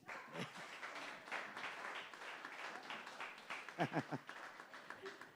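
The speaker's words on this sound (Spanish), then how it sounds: "Ese ahí te va a dar un aplauso caluroso." A church congregation claps warmly at a Sunday service, a fairly soft, uneven patter of many hands with a few distinct louder claps near the end, and speech mixed in over it.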